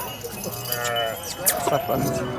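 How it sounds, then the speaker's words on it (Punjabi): A ram bleats among sheep and goats at a livestock fair in Punjab, a wavering close cry mixed with crowd chatter and people talking nearby. "ਆ ਗਿਆ ਇਹਨਾਂ ਦਾ ਭੇਡੂ"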